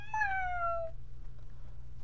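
A single cat meow in the video game Fortnite, a falling tone lasting under a second, followed by a low steady hum.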